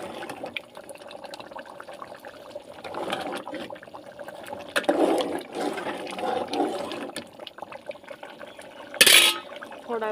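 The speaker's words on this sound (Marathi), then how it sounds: "मस्त असे उकळे आले" Curry with tamarind boils in a pot on a home stove, giving a soft, uneven bubbling and gurgling with an occasional light clink of a utensil close by.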